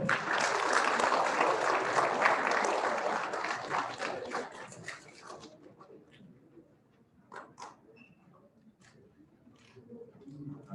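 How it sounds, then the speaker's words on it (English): A school assembly crowd breaks into loud, dense applause that fades over about five seconds into scattered claps and faint room murmur. "let's give a round of applause to Jesse Mayo."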